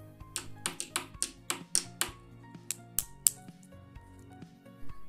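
Wooden pencils tap against a surface like little drums, a quick irregular run of a dozen or so sharp, close clicks that thin out toward the end, with no talking.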